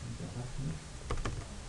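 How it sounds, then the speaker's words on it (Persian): A few quiet keystrokes on a computer keyboard while entering a place name into GIS software, a short cluster of clicks near the end over a faint background hum. "تایپ کنیم"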